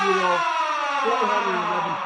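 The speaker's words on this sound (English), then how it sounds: "Play that siren." A stadium siren blares after a home run at a New York Yankees versus Seattle Mariners baseball game, a loud, steady wailing tone that holds for about two seconds with no talk over it.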